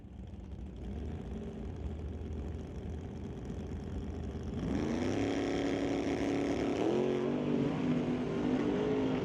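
A 1985 Chevrolet S10 drag truck launches with wheel spin and then full throttle, a loud steady engine roar that climbs in pitch midway and keeps pulling hard, heard from trackside.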